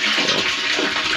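Water rushing under pressure through a pipe into a rural water supply tank, a loud, steady broadband whoosh filling the whole moment, close and continuous with no voices.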